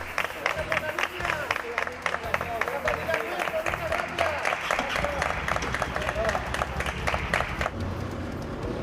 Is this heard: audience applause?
yes